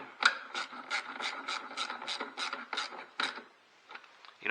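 A ratchet wrench tightens a bolt on the engine of a 2004 Ford Focus Zetec, giving a quick run of about eleven evenly spaced close clicks, then a pause and a few slower clicks.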